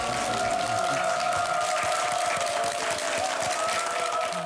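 An audience in a studio lecture hall gives sustained, dense applause that stays steady and fairly loud from start to end.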